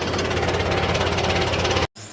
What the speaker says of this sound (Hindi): तो हमने ट्रैक्टर को अब चलाना शुरू कर दिया है